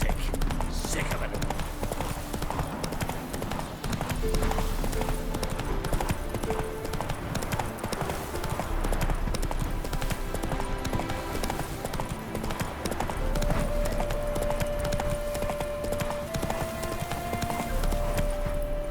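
Roach the horse galloping in The Witcher 3, steady rapid hoofbeats under game music, with someone talking over it.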